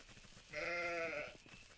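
A single sheep bleat from the farming video game Force of Nature, a short wavering cry of about a second, clear and close over a faint background.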